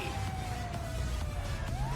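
A police car siren in GTA 5 Online wails loudly and continuously, its sweeping tone rising and falling over a dense rumble of in-game traffic noise.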